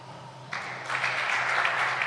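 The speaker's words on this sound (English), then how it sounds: "And now applause for the Southern African player Mushimba." Crowd at a darts tournament breaks into applause, starting quietly and swelling into a full, sustained wash of clapping with a low hum underneath.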